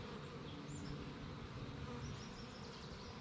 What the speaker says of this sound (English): take the frame and shake the bees off into a container